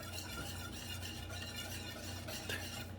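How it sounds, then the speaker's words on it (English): Whisk stirring a warming cream puff mixture in a pan, a soft continuous scraping swish with faint sizzle underneath, close by and without talking. "and stir until it gets warm enough"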